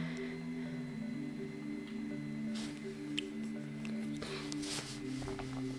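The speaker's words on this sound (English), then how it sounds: "The Danish dough whisk does a lovely job of pulling the moisture through the dough" Wooden Danish dough whisk working through a wet whole grain sourdough dough, giving faint close squishy, sticky stirring sounds over a steady background hum.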